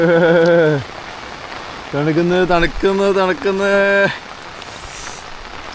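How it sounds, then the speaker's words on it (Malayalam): Steady, heavy rain hisses in the background while people talk over it in short bursts. "മഴ കൂടി ഗൈസ് മഴ കൂടി നല്ല മഴയാ"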